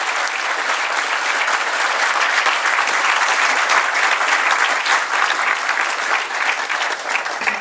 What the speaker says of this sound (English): let's give a huge round of applause, first of all, for our Chief Guest